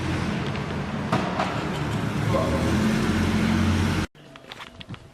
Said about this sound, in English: what I really like about the new tips is that it actually made my car sound a lot deeper for some reason